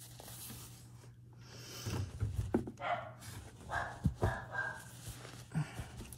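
A dog barks in short irregular bursts with whimpers and panting between, fairly close and loud over a steady low indoor hum, no talking.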